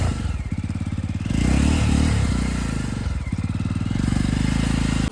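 A motorcycle engine revs hard while stuck in snow, near and loud, rising and surging in long pulsing runs with brief dips between.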